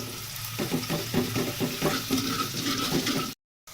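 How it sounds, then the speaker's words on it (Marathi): Onions frying in a pan while being stirred, a steady close sizzle broken by rhythmic scraping strokes, ending in a brief cut to silence. "आता मस्त हलवून घ्यायचं. कांदा एकदम भाजला पाहिजे."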